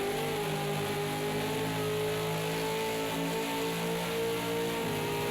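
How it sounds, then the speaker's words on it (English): V8 Supercar engines rev together in a sim-racing game at the Nurburgring, a dense, continuous mid-pitched roar with overlapping harmonic whines rising and falling steadily, loud and close throughout. "All the engines sound so in sync at the moment."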